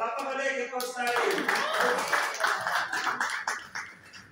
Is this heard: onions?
no